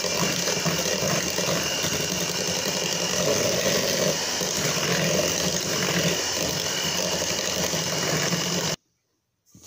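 A manual whisk mixes grated butternut cake batter with a steady, close mechanical whirring and clicking of gears that runs continuously for several seconds and then stops abruptly into silence.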